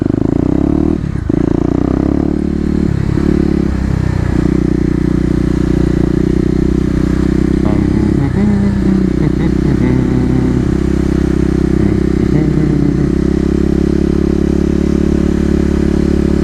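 A Kawasaki KLX250 with fresh EJK tuning pulls hard out of a corner, its single-cylinder engine droning loud and close with steady revving and wind buffeting throughout.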